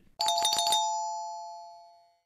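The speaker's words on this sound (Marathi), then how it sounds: "वाजव बेल" An electronic doorbell at a house door chimes once: a quick burst of bright ringing tones that fades away slowly and cleanly into silence, with no talking.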